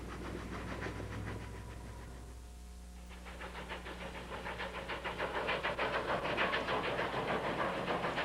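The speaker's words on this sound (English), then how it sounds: "Follow Union Pacific's 8444 on a 2-day excursion train run in May 1989 from Portland to Bend, Oregon" Union Pacific 8444 steam locomotive hauling a 1989 excursion train from Portland to Bend, Oregon: a steady hiss and rumble of steam building into loud, rhythmic chuffing that grows stronger toward the end.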